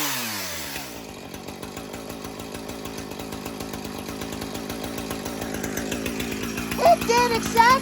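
Chainsaw cold started for the season and then run off choke: rapid rhythmic engine firing that settles into a steady idle, with revs rising near the end, close and loud.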